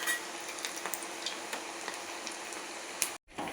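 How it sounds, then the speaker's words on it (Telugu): Bottle gourd appalu fry in hot oil with a steady, crackling sizzle full of small pops, close and fairly quiet, broken by a brief utensil knock and a momentary dropout near the end. "మనకి ఈ కలర్ వచ్చే వరకు ఫ్రై చేసుకోవాలండి."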